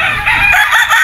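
A gamefowl rooster at a game farm crows loudly and close by in one brief, strained call, with no talk over it.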